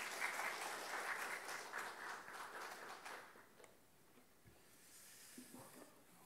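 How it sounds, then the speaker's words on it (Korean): A church congregation at a Wednesday prayer service gives a round of applause that peaks at the start and fades over a few seconds, quiet and somewhat distant, leaving soft room hiss. "격려의 박수 하겠습니다"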